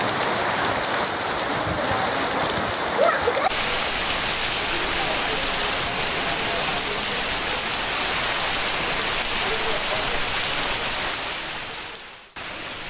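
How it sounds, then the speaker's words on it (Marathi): A heavy rain shower pours down in a sudden summer downpour, a loud, dense and steady hiss of rain on surfaces that continues unbroken until a brief cut near the end. "गरमेत पावसाचो उटंगार।"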